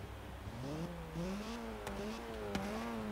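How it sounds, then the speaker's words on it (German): Porsche four-cylinder engine in the Forza Horizon 3 racing game, revving and rising in pitch with quick gear changes and a steady droning note, close and moderately loud. "Wieder ein Vierzylinder-Motor"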